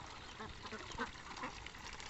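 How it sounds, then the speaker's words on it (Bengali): A flock of ducks feeding in a field gives soft, distant quacks in a few short bursts over a steady low background hiss. "জমিতে হাঁসগুলা কত সুন্দর করে খাদ্য খাচ্ছে"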